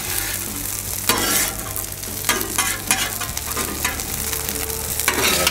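Hash browns crisping on a Blackstone flat top griddle give off a loud, continuous sizzle, broken by repeated spatula scrapes against the steel surface, close and with no voices.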